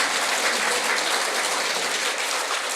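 Congregation applauding inside a church during a mountaintop prayer-meeting sermon, a dense steady wash of clapping held at even loudness throughout, with no voices over it.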